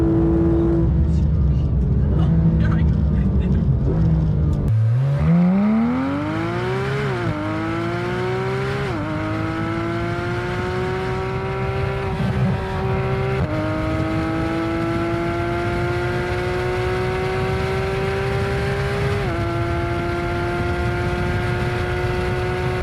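A 2022 Lamborghini Huracan STO engine with standard exhaust revs and accelerates up through the gears, a loud, close, rising roar with repeated shifts and a sustained high pitch afterward.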